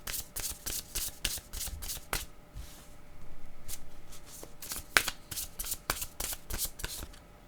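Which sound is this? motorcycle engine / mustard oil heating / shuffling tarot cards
shuffling tarot cards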